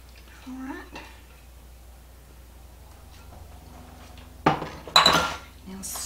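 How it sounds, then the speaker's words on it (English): A large cooking pot is handled and squash casserole mixture is tipped into it, giving soft clinks, a couple of louder metallic clatters and scraping near the end, with quiet room tone in between. "I'll just bring my pot over here and put this in it."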